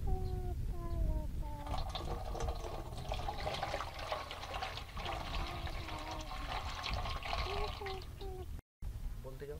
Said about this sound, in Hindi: सबसे पहलो पानी तगारा में रेड ली